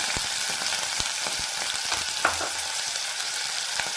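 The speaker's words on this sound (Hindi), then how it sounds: "मेरा तेल जल चुका है और इसमें मैं इसे डालकर ये देखिए, इसमें थोड़ा सा प्याज डालूंगी।" Onion frying in hot oil gives a continuous crackling sizzle. Scattered sharp pops and light utensil taps sit over the hiss, heard close up and with no one speaking.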